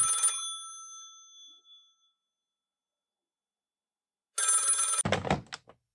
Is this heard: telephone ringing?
yes